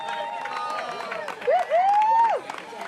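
A crowd of spectators cheers and shouts for a runner reaching the finish line of a 100-mile trail race, with voices rising in a short loud burst among scattered whoops and a whistle-like call.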